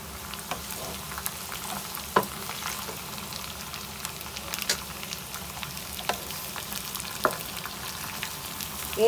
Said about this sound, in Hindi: एक मिनट तक लौकी को फ्राई कर लेते हैं।